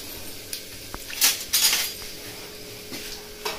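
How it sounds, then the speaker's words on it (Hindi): A spoon clinks and scrapes against a cooking pot as it is pulled out during frying of chopped garlic, with a few sharp metallic knocks and rattles spaced unevenly over a quiet kitchen background. "चम्मच निकाल लूं अंदर से"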